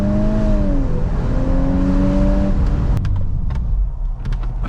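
A Volkswagen Golf R Mk8 engine on a launch control start holds a steady, loud rising note under strong rumble, then drops away with brief clicks and a lower idle near the end.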